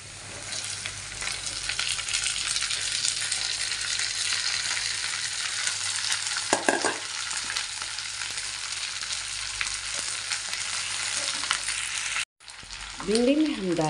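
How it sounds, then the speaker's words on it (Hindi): Chopped okra frying with onions in a pan, a steady loud sizzle running throughout with a brief stir around the middle and a short break near the end, followed by a faint voice. "अब इसमें डाल देंगे हम ये कटा हुआ भिंडी।"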